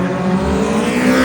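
A Honda drag racing car engine revs loudly at a raceway, a dense, rough, steady roar filling the short clip with no talk over it.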